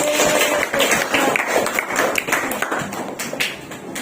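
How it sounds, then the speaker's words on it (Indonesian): A classroom of students claps for a student group during a teacher-training lesson, a dense, continuous patter of hands held at a steady level for the full stretch with no voices over it. "Tepuk tangan untuk kelompok 3."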